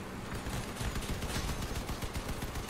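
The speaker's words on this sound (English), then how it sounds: "Just going to keep firing away at his cabin." Rapid automatic gunfire from vehicle-mounted guns in the Crossout combat game, a continuous dense burst of fast repeating shots, loud and close, with no pauses and no talk.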